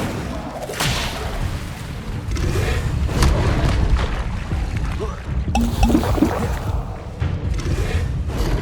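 Incendio fire spells are cast twice in Hogwarts Legacy, each a whooshing burst of flame over rumbling game noise, loud and close, with a voice briefly under the sound.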